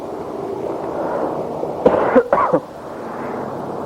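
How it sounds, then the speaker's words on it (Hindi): A short burst of two or three rough coughs breaks through a low background hum, close and fairly loud. "तो इसी तरह खांसता है।"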